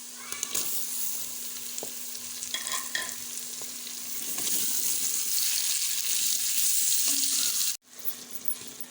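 Tomatoes sizzle steadily in a hot pan with ginger, garlic and salt, with clinks and stirring scrapes; the sizzle swells louder midway, then cuts off abruptly near the end.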